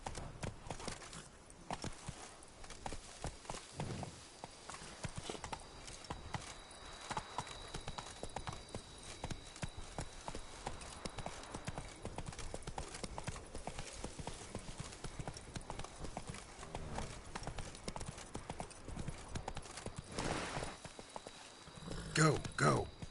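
Roach the horse gallops in a PS4 video game, hooves clip-clopping in a fast continuous rhythm with an occasional whinny, while a player talks over it now and then.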